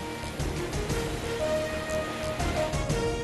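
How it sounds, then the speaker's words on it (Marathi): Heavy rain falling during a stormy, windy downpour in a village near Baramati, heard as a dense, steady wash of drops with faint tonal hum underneath and no talk. "बारामतीच्या मोरगावात जोरदार वादळी वाऱ्यासह पावसाची हजेरी।"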